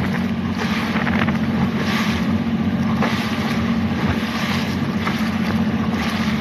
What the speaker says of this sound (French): Là, il y a pas mal de vent.